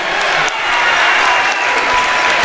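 Loud, sustained applause and cheering from a high school basketball crowd, the Macomb Bombers' home fans on their feet at an IHSA 2A regional game, filling the whole stretch without a break.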